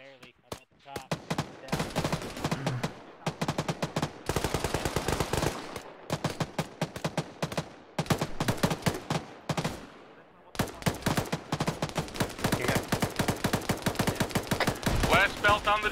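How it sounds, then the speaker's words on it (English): Heavy machine gun fire from a DShK in a military video game, long sustained bursts with brief pauses, loud and close, with voices talking over the shooting at times. "I got one mag left in this Dishka"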